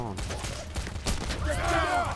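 Gunfire in the video game Payday, a burst of rapid shots and sharp cracks up close with a dense fusillade, while a player's voice talks over the action.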